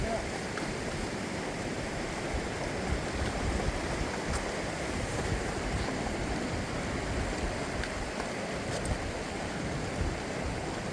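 A mountain river rushes past boulders on a long-distance hiking trail, a steady broadband roar of flowing water that fills the whole scene without pause, close and fairly loud, with faint wind mixed in.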